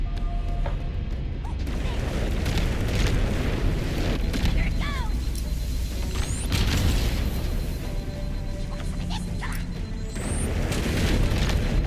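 A vehicle blowing up in Halo: Campaign Evolved, heavy booms and crashing bursts amid ongoing gunfire and mechanical noise, loud and close, with brief pitched whistling sweeps overhead.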